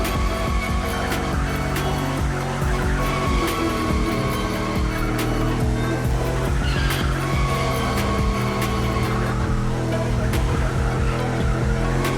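A car in The Crew Motorfest racing game drifts continuously with loud, sustained tire squeal over a steady engine roar, the pitch of the squeal wavering as the slide goes on, with no pauses.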